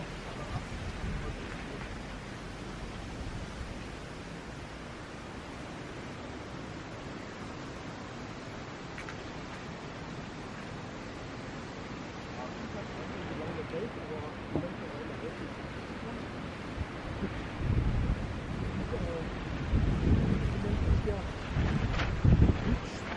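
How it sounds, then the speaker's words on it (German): Strong wind roars and buffets the microphone while steady rain falls, with heavier gusts near the end. "So, richtig krass mit dem Wind. Jetzt regnet es auch noch."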